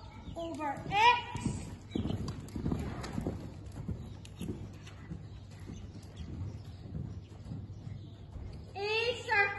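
Horse trotting in a dressage arena at a horse show, steady clip-clop hoofbeats throughout under an announcer calling the test movements, with children's voices and birds in the background.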